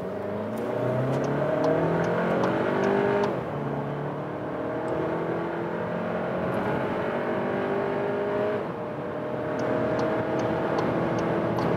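A VW T-Roc R with on-demand front and rear drive accelerates hard from about 40 km/h. Its engine drones steadily and climbs in pitch, breaking off twice for quick gear shifts before rising again, with no talking.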